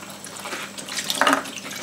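Tap water runs into a sink while pots are washed in a home kitchen, a soft splashing and dribbling stream that swells briefly with a sharper splash, heard close and alone without talk.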